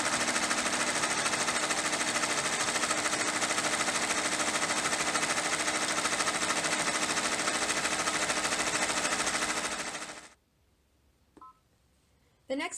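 An embroidery machine stitches an in-the-hoop key fob, working the stitching detail on the top and bottom in a steady, loud, continuous whir for about ten seconds before it stops abruptly, leaving near silence with a few faint clicks.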